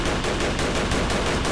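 Rapid automatic gunfire in the video game Cortex Command, a dense machine-gun burst of evenly spaced loud shots lasting the whole moment, with no talking.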